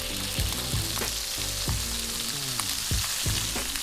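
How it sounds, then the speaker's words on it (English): Beef searing in a hot pan for beef en croute, a loud continuous sizzle with several sharp knocks or scrapes of a utensil against the pan, close and without speech. "we are done searing this"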